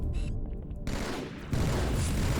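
Battle rifle fire in the shooter game Halo 2, loud crackling bursts that drop off briefly into a quieter gap, then return with a heavier, booming volley.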